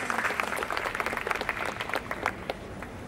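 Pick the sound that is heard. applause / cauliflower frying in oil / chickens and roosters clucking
applause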